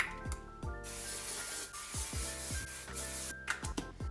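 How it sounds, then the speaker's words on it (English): A hissing hairspray can sprays in bursts under background music with soft low thumps. "A little spray."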